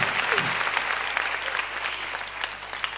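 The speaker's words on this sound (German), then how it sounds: "Ein Applaus für Isolde." Audience applause at a 2018 film premiere, steady clapping from a crowd that lasts throughout.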